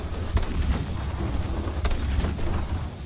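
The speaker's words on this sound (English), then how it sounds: "try to shoot them from the HSTV-L. Its APF SDS rounds have good ballistics, and the gun reloads in just a second and a half" HSTV-L tank gun firing APFSDS rounds in War Thunder, heard as two sharp, loud reports about a second and a half apart over a steady low engine rumble, with no talking.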